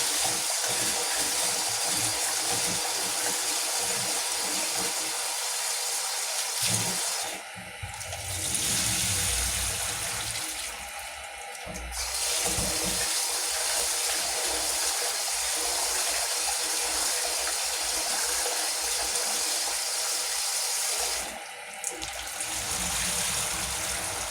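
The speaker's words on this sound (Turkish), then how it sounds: "Arkadaşlar pirincimizi de yıkayalım. Bol suyla" Rice being washed under a strong, steady stream of running tap water in a home kitchen, a loud continuous gushing and splashing that briefly dips or stops a few times.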